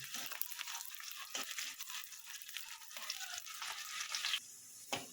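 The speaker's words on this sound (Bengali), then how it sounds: "পেঁয়াজটা হালকা লাল লাল করে আমি ভেজে নেব।" Chopped onion frying in a pan until lightly browned, a steady close sizzle with occasional stirring scrapes and no voices.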